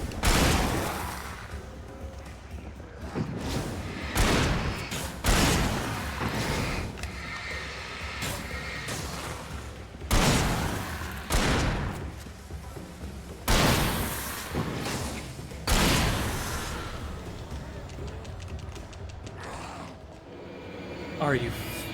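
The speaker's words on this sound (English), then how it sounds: "Forgot I had the fucking pump shotgun." A pump shotgun fires repeatedly in the Alan Wake video game, with loud booming blasts every few seconds, each trailing into a short echoing tail, and a voice talking between the shots.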